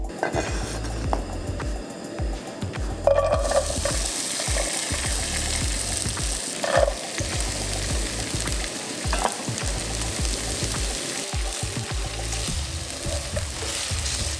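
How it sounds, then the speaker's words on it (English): Potatoes fry in olive oil with a strong, steady sizzle that rises sharply a few seconds in, along with clinks of a utensil against the pan and some stirring. "Add a good amount of olive oil and we'll cook our potatoes first."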